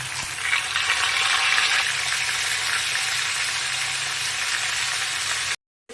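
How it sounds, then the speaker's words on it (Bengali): Potato pieces frying in hot oil in a wok for a goat-meat curry give a loud, steady, dense sizzle that holds unbroken for about five and a half seconds, then cuts off abruptly. "এবার কড়াইয়ের মধ্যে তেল দিয়েছি আলুটা ভাজার জন্য, মাংসের আলুটা ভাজবো।"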